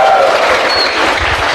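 A church audience claps together in a loud, dense, continuous wash of hand claps that fills the room for the whole moment.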